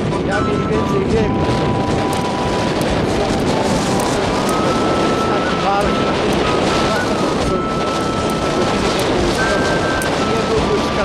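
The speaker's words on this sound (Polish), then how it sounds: "Wiatr jest bardzo silny, zatyka po prostu." Strong wind roars steadily and buffets the microphone with a constant heavy rush of noise throughout.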